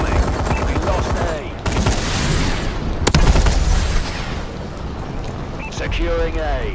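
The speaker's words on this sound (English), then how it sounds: "Friendly bombing run incoming." A bombing run in the Call of Duty Advanced Warfare multiplayer map Ascend sets off loud, continuous rumbling explosions and heavy gunfire that fill the scene, with game voices calling out over the din.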